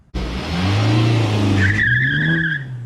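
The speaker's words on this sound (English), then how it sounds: "we can do little burnouts" 2023 Honda Civic Type R doing a burnout: a loud engine roar with tires squealing and skidding, rising into a high wavering tire screech near the end, close and alone.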